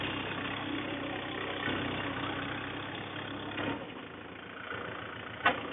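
A Mahindra 575 4WD tractor engine runs steadily in a village setting, a continuous even drone close by with no drop in pace and a brief clunk near the end.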